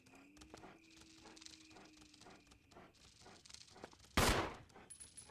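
Rapid gunfire pops in the video game Resident Evil 1, a quick series of sharp, fairly faint shots over quiet game ambience, ending in a louder burst near the end.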